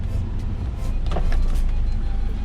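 The electric power window of an armored VW Beetle in Brazil lowers with a steady motor whir under a constant car-interior rumble, swelling slightly midway, with no talking.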